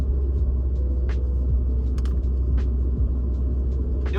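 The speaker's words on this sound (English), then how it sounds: "Gonna do a little heel toe downshifting." A car engine rumbles low and steady through heel-toe downshifting during a late-night drive, with brief higher mechanical blips and clicks scattered over the drone and no talk.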